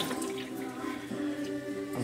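Refillable coffee capsules are rinsed out under running water, a steady, close splashing flow from a tap that continues without a break.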